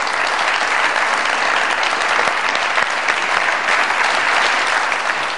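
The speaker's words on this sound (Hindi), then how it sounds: "बहुत सारी तालियों में वेलकम कीजिएगा सुंबुल शाहिद साहिबा की" A studio audience on a Dunya News comedy show bursts into dense, sustained applause to welcome a guest, with steady loud clapping filling the whole stretch and no talk over it.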